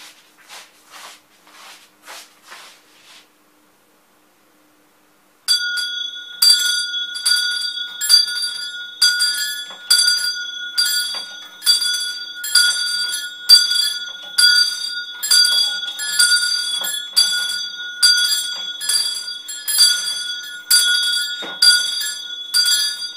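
A wooden personal bell tower rings a full peal for the 8:40 Mass, with sustained overlapping bell tones swinging in a steady loud rhythm after a few softer opening strokes and a brief pause.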